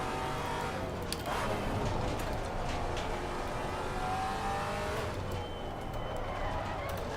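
A Maserati race car in Assetto Corsa Competizione at Zandvoort, with its engine droning and revving steadily and tire noise underneath, the whole run loud and unbroken, with no talk.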